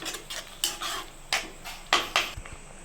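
A spoon stirs milk into bottle gourd halwa in a pan at home, giving a run of close, light clinks and scrapes against the metal at an uneven stirring rhythm, with no talking.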